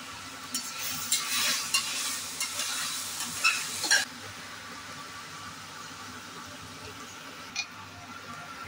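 Vegetables and a few mint leaves frying in a pan for vegetable pulao, a broad hissing sizzle with scattered stirring clicks, loud at first and then settling into a quieter steady fry.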